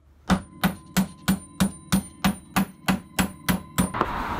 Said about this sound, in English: We're going to close it by hand onto the rove.